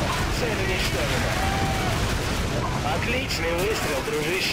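Gunfire in the Call of Duty Modern Warfare video game: booming shot and blast sounds over a constant noisy battlefield bed, with voices speaking in Russian over the action.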